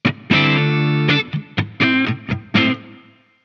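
Clean guitar chords played through a compressor pedal, each strum evenly squeezed and sustained; a long first chord is followed by several shorter, punchy chords of steady loudness, closing on a ringing decay, with no voices.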